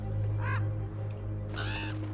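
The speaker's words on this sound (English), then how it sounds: "It's just a crow." A crow in the horror video game Draugen caws twice, two short harsh calls separated by about a second, clear over a steady low ambient hum.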